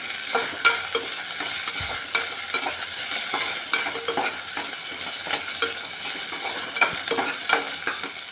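Onion, green chili and ginger garlic paste fry in oil for tomato biryani, a close, busy sizzle with rhythmic scraping stirs of a spoon against the pan repeating throughout.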